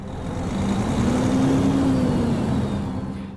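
A truck engine drives steadily in Euro Truck Simulator 2, a low droning hum that swells slightly in pitch mid-way and then settles, continuous and fairly loud with no talking.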